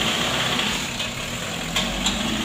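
A 1992 Isuzu Panther engine runs loud and close in a steady, rough drone with slight surges, and no voices are heard over it.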